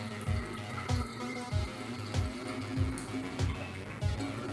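Water pours into a hookah vase, giving a steady splashing fill with soft rhythmic glugging pulses about twice a second, close and moderately quiet.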